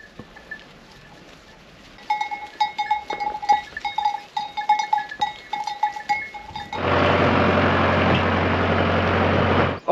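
Goats on a farm bleat repeatedly in short calls, several animals at close range, before a loud engine or tractor rumble starts up and drowns them out for the rest.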